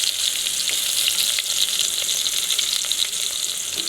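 A steady, close sizzle of onions frying in a hot pan for fish curry, with faint crackles and light stirring throughout.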